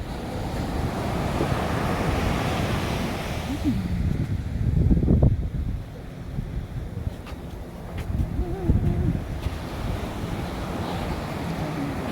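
Ocean waves rolling onto a California beach, a loud broad wash of surf with heavy wind buffeting the microphone, easing partway through before another surge, with no talk.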